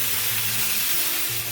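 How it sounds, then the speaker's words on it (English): A steak fries in a hot pan just after being flipped to its second side, giving off a loud, steady, unbroken sizzle with no voices over it. "Listen to that sizzle."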